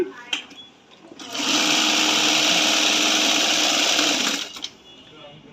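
A thick-thread auto plain sewing machine runs in one steady burst of about three seconds, a loud even whirring hum that starts and stops cleanly, with faint handling clicks before and after.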